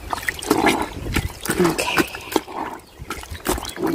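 Tap water runs and splashes into a portable washing machine during hand laundry, a steady close trickle with brief splatters, and a voice speaks a single short word over it.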